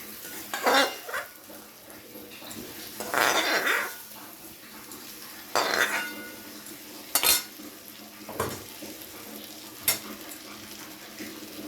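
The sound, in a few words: fried potatoes and pointed gourd added to spice masala and stirred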